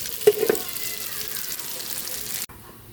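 Food frying in a pan before garlic and ginger are sautéed, a short close sizzle with a couple of clattering knocks early on, cutting off abruptly near the end.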